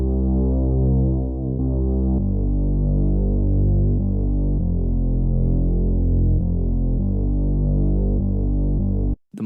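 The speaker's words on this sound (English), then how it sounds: "For this beat, I used a Reese bass and made this simple bass line." Reese bass line for an R&B beat, a thick, detuned, droning synth bass playing a simple sustained line of long held notes, loud and continuous with no voices, ending abruptly.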